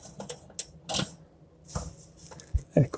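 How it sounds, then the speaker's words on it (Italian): Two nuts are tightened on an oven during a thermocouple replacement, giving sparse metallic clicks and small scraping taps, close and quiet, spread irregularly over a few seconds. "Quindi ora andiamo a stringere i due dadi"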